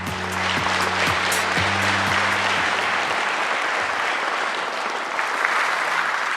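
A large audience at a government policy briefing applauds a social committee chair's presentation, a loud, sustained wash of clapping over a low musical jingle that fades out partway through.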